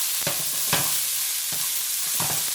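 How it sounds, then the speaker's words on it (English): Chopped white onions being stirred into beef fried rice in a hot pan, with steady sizzling and several distinct scraping strokes of the spatula spaced a second or so apart. "Next, we're gonna add the chopped up white onions. Stir everything all together."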